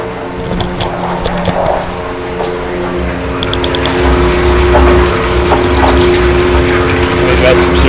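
An electric pump circulating six gallons of water for mixing sugar syrup hums steadily and mechanically, with a faint ratcheting rattle that continues throughout the clip.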